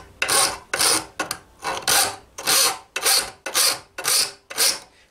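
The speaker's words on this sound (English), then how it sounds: "So we'll file that out" A hand file rasps against a steel hinge for medieval armour, about eight steady back-and-forth strokes with short gaps between them, close and clear with no talk.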